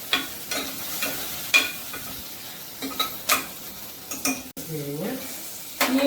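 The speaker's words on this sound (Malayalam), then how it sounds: "ഇതെല്ലാം കൂടി ഒന്ന് എണ്ണയിലിട്ട് ഒന്ന് ചുവക്ക വറക്കണം." Tomato, garlic, ginger, shallots, onion, green chili, pepper and mustard seeds frying in oil for fish molly, a steady close sizzle broken by repeated scraping stirs and clinks of a utensil against the pan.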